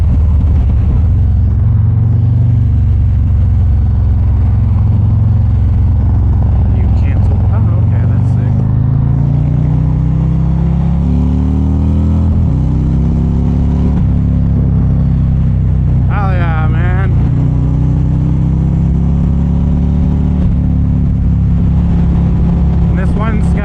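A 2024 Harley-Davidson Street Glide rumbles steadily in third gear on a rainy ride, its loud low engine drone rising slightly in pitch as it pulls, with wind and road noise and a brief voice over it.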